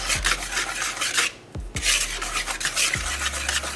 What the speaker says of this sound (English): I'm just going to whisk this together, just until they're combined